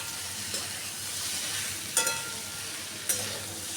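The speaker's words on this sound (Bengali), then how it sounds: "এই ভেজে রাখা পটলগুলো দিয়েও আমি আরও একটু মশলাটা ভালো করে কষিয়ে নেব" Fried pointed gourd and potato stirred and sizzling with spices in a pan, a steady close frying hiss with a few sharp spatula clinks and scrapes, no voices.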